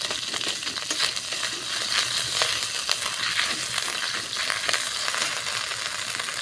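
Ginger, turmeric powder and cumin-coriander paste fry in hot oil with a loud, steady, close crackling sizzle that holds throughout, without voices.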